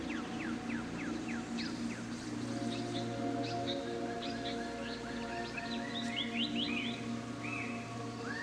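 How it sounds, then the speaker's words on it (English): Simulated bird chirps and tweets from the game Planet Coaster 2, with repeated short calls over a steady ambient outdoor bed of hum and water-like noise, moderately faint and with no talking. "bird sounds."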